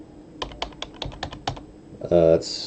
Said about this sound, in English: the keyboard's clicking loud.